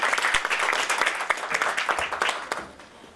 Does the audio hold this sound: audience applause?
yes